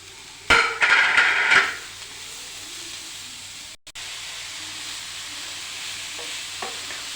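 Chopped taro stalks with a pinch of turmeric hitting a hot pan, a loud hissing sizzle burst for about a second, then a steady quieter frying hiss continuing with a few faint clinks.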